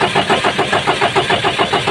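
A JAC truck engine cranks in a quick, even pulsing rhythm, loud and close, the starter churning repeatedly without catching.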